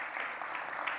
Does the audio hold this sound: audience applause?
yes